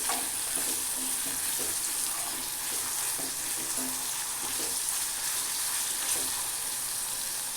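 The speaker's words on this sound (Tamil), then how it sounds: "வெங்காயத்தை சேர்த்து நல்லா அந்த எண்ணெயில் வணக்கி விடுவோம்" Onions sauté in oil for an egg gravy: a dense, even sizzle with occasional stirring scrapes, close and constant throughout, no voices.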